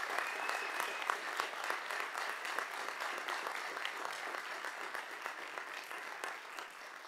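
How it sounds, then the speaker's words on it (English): Steady applause from a crowd, dense clapping that holds evenly for several seconds without a break. "Please give him a round of applause."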